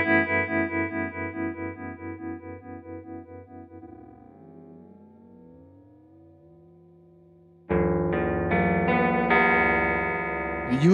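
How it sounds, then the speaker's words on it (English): A ring modulator pedal set to a high frequency gives a guitar a warbling, pulsing tone, then a metallic, clangorous and inharmonic sound, with the notes sliding and wobbling before a loud strummed burst near the end. "it starts to sound like this weird ring mod thing"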